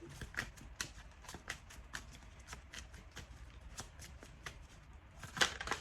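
Tarot cards shuffled by hand in a repeated run of crisp riffling flicks, close and fairly quiet, with a louder burst of shuffling near the end and no talk.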